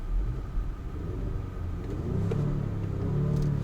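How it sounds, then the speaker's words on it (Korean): A Genesis G70 Shooting Brake's 2.0 turbo engine in Sport Plus mode on a winding road, its low exhaust rumble heard from inside, rising gently as the throttle opens, steady and moderately loud with no talking. "벌써 배기음이 살짝 들리네요."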